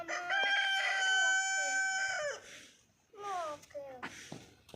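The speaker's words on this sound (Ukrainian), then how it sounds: "Курочки ходять." A rooster crows loudly nearby on a sunny village yard in January, its long call followed by shorter clucking and chattering from hens, with a voice speaking softly between.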